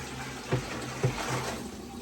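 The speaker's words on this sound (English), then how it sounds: "filling this bad boy up with water" Water pours steadily from pitchers into a fish tank with a continuous gurgling splash, punctuated by two soft thuds.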